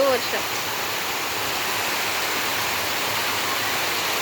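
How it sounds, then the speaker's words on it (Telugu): Heavy rain pours down outside a house as a dense, steady roar of hiss that stays constant throughout. "ఫుల్ వర్షం పడుతుంది ఫ్రెండ్స్ మా ఇంటి కాడ"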